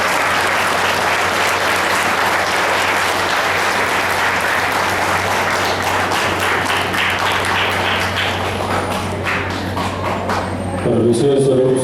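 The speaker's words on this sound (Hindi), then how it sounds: "एक बार सब एक दूसरे के लिए तालियों की गड़गड़ाहट करें।" An audience at a spiritual discourse gives loud, sustained applause, a dense wash of clapping lasting around ten seconds before thinning out and giving way to other sound at the end.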